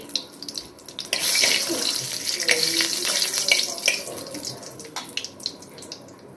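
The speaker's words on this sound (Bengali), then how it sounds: "তেল গরম হয়ে যাওয়ার পর আমি এর মধ্যে দিয়ে দিচ্ছি তেজপাতা দুটো শুকনো লঙ্কা" Bay leaves and dried chillies dropped into hot oil, producing a sudden loud sizzle that settles into a steady, hissing crackle for several seconds.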